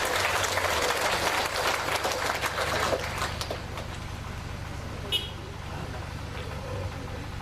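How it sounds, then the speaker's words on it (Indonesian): Guests at a 50th wedding anniversary church service break into loud, close applause that lasts a few seconds, then die away to a quieter room tone with a faint bump. "mari kita tepuk tangan"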